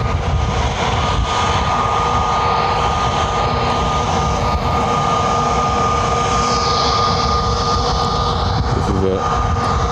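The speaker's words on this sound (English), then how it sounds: "EasyJet Switzerland plane." EasyJet Switzerland plane's jet engines roar steadily at Lanzarote Airport, a loud continuous drone mixed with heavy wind buffeting throughout.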